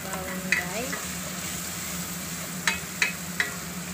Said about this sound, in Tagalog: Gisa natin ang bawang.